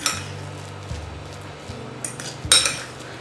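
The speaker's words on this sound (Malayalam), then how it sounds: "നമുക്കത് ഫുള്ളായിട്ട് മിക്സ് ചെയ്തെടുക്കാം." A spoon scrapes and clinks against a bowl while bread is mixed for a sweet bread-and-banana snack, giving steady close scraping strokes and a sharper clink near the end, with no talking.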